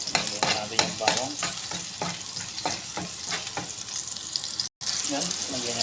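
Garlic sizzles and fries in hot oil in a pan, a steady close crackle broken by repeated scraping stirs and one brief cut near the end.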